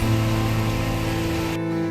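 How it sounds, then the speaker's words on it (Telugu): Heavy rain with wind pours steadily in Tirupati, a dense rushing roar and low droning hum, loud and close, ending in an abrupt cut. "ఒక్కసారిగా గాలి వర్షం స్టార్ట్ అయింది"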